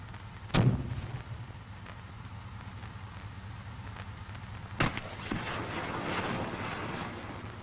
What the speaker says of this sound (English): launchers can be fired one at a time in right or left salvos of 4 or in a full salvo of 8